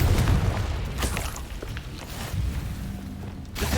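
A Confringo explosive spell cast in a Harry Potter video game, heard as a heavy booming blast followed by a sustained rumbling roar with faint crackles, loud and dense throughout.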